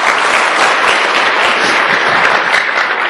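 A seminar audience at an Indonesian network-marketing training session claps together in a dense, loud burst of applause that fills the room evenly from start to finish.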